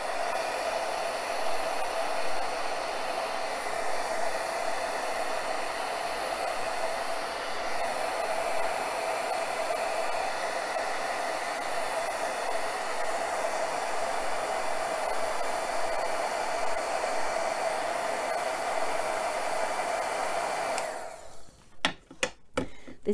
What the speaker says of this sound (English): So I'm just going to heat set this